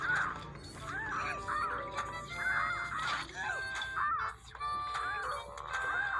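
In Plants vs Zombies 2, an approaching seagull zombie is heard as repeated squawking, cawing game calls mixed with chiming effects and dense game music, continuous at moderate loudness.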